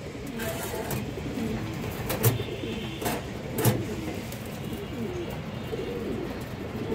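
Pigeons in a loft of fancy breeds such as highflyers and sapchila hens, cooing steadily with scattered wing flutters, close and moderately loud, no talking heard.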